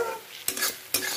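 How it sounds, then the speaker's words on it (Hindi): Rice frying in a pan for pulao alongside onions frying for rajma: a quiet, steady sizzle broken by two brisk stirring scrapes, close by and without voices. "एक तरफ मैं पुलाव बनाने के लिए चावल फ्राइड कर रही हूँ ऐसे, और एक तरफ मैं राजमा बनाने के लिए प्याज फ्राई कर रही"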